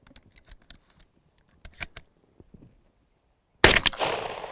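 A shotgun fires at clay targets outdoors: one sharp, loud blast near the end with a long decaying tail, after a few faint clicks and handling taps.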